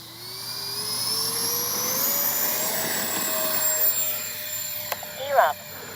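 An X-Fly J-65 RC jet plane flying in to land, a steady whining turbine with a slowly rising pitch, fairly loud and constant, with a brief clatter near the end.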